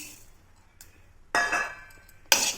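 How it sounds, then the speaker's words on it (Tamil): A handful of raw rice goes into a pan for roasting with black urad dal, heard as two quick, close bright rattling pours with a metallic clink, separated by a short quiet gap. "இப்போ இது கூடவே ஒரு கைப்பிடி பச்சரிசி எடுத்து வச்சுருக்கேன் அதையும் சேர்த்துடலாம்"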